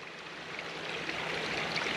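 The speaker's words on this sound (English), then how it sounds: "All right, so it is draining some water" Water draining from a dam pours in a steady, fairly faint rushing wash, alone and unbroken throughout.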